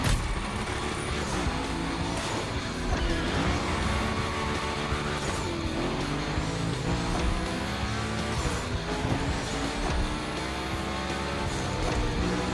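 A car slides through a gymkhana course in The Crew Motorfest, its engine loud and constant with shifting revs and tire noise throughout.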